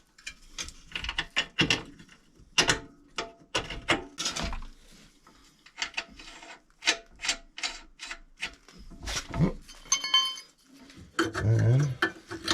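Ratchet turning a bolt on a 2016 Subaru Forester during brake and strut work, a series of short clicking and rubbing bursts in irregular runs, close and quiet.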